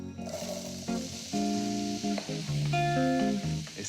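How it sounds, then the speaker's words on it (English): Butter and apple pieces sizzle steadily in a hot pan, a loud, continuous crackling fry close up, with tonal whines from the cooking setup running over it. "It's sizzling away."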